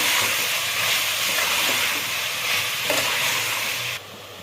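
Vegetables frying for a vegetable pulao give a loud, close, continuous sizzle and hiss with occasional stirring scrapes, ending in a sudden drop to a quieter simmer, with no voices.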